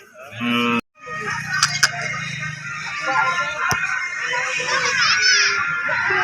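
Bulls moo loudly and close at a cattle market, a long low call and then further lows, amid crowd noise and children's voices.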